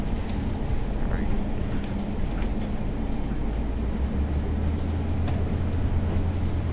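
A Class 142 Pacer diesel railbus in Transport for Wales livery, in a train simulator game on a Cardiff city network, revs steadily with a loud, constant engine drone and rumbling rail noise throughout.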